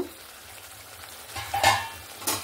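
Spiced drumstick and potato curry stirred in a pan, soft low frying with a couple of louder scraping stirs near the end, no one speaking.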